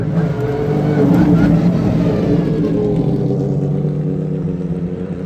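Porsche race cars accelerate out of turn 11 up a circuit straightaway, a loud, close, rumbling engine roar that swells and then gradually fades as they pass.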